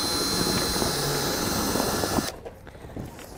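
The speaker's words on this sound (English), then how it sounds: "I may as well get the drill ready" A power drill runs to open a delivery box, giving a steady, close whine for a little over two seconds. It then cuts off, leaving quieter handling noise.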